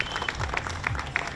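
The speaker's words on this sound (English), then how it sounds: "Let's give them all a round of applause." Applause from an audience at a city event where parks, recreation and marine officials are introduced, a steady patter of clapping lasting just over a second with some crowd noise mixed in.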